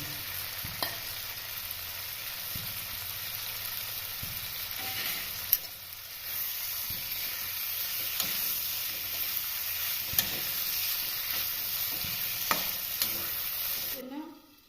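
Chopped onion frying with pigeon meat in a pan, a steady close sizzle broken by occasional scrapes and stirring clicks, with a lid knock near the end.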